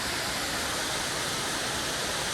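Constant, dense rushing of Mitte waterfall's water falling from the hilltop in a forest, even and unbroken throughout.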